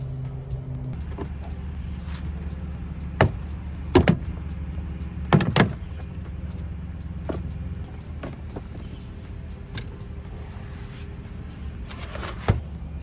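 A car door trim panel is pried off during a side mirror sequential turn signal install, with several sharp plastic clip pops and knocks over a steady low hum and no talking.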